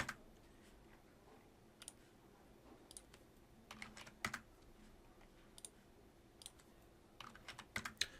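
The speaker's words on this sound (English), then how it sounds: "I'm clicking on each individual picture, typing in the correct width, hitting Enter" Quiet typing on a computer keyboard during image resizing in a word processor, irregular bursts of soft key clicks and taps close by with a faint background hum, no voices.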